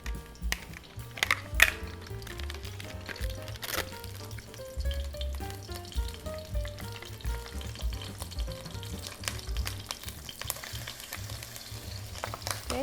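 Crushed garlic fries in a pan with a steady close sizzle and crackle, broken by a few stirring scrapes and light clinks, heard alone without talking.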